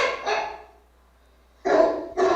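A small puppy barks in short bursts, two high yaps at the start, a pause, then two more, close and fairly loud with nothing else around.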